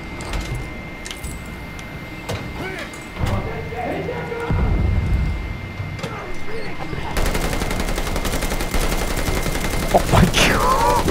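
Bursts of automatic gunfire and scattered shots in the World War II shooter video game Call of Duty Vanguard, layered with battle noise, engine rumble and voices throughout.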